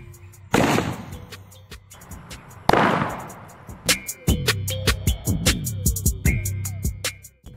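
Two loud, close bangs from half-filled plastic bottles bursting under gas pressure, about two seconds apart, each with a short noisy tail, then a run of sharp clattering pops and knocks.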